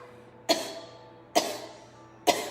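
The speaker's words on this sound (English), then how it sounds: "You put your hand here and cough." Three sharp single coughs, evenly spaced under a second apart, close and clear against a quiet room during a Pilates and yoga session.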